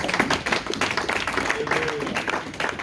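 Congregation at a French-language church service clapping in a steady, rhythmic beat to acclaim Jesus Christ, the claps close and busy with crowd voices and a faint sung tone woven through.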